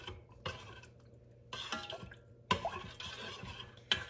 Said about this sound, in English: let me do a little mix here of just the broth